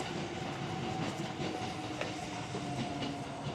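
A narrow-gauge train of the Sangi Railway Hokusei line at Kuwana station, heard as a steady rail rumble with faint wheel clatter and a thin tonal hum, continuous and moderately near.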